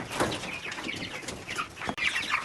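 Chickens cluck and peep continuously at close range, a brood of young egg-laying chicks with one broiler among them, steady overlapping calls without pause.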